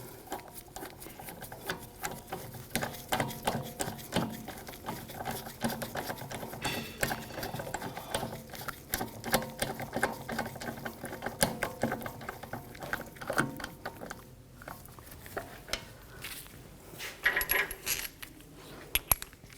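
Lug bolts being threaded by hand onto the rear wheel of a Volkswagen GTI, heard as a long run of close metallic rattling and ticking, steady throughout with slight pauses near the end.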